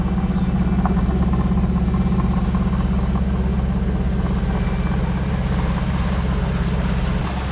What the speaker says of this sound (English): We've been motoring for maybe the last 2 hours of our 10-hour journey